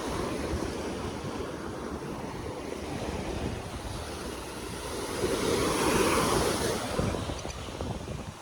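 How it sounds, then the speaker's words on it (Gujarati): Ocean waves wash steadily onto the beach at Madhavpur, Gujarat, a constant roar of surf mixed with wind buffeting the microphone, swelling slightly louder partway through. "યક્ષ અહીંયા પાણી નહીં આવે"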